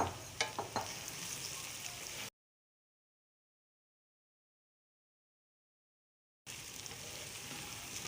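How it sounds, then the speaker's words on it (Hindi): Cooked rice tossed with vegetables in a hot pan for Mexican chicken rice, sizzling and frying with scraping stir strokes, cut off by a stretch of silence before the sizzle resumes. "चावलों को डाल के अच्छे से मिक्स कर लें।"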